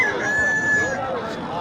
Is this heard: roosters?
yes